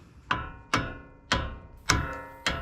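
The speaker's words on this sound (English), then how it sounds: "And take a hammer, just give it a tap it right out." A hammer strikes a steel stud on the steering of a 2020 RAM 1500 during a driveway lift kit install: five sharp metallic blows spaced about half a second apart, close and ringing briefly after each hit.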